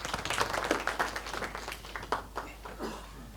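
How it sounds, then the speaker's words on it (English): A small audience applauds a speaker at a business talk, giving a short burst of scattered hand claps that is fairly faint and thins out toward the end. "let's give Alan a warm round of applause"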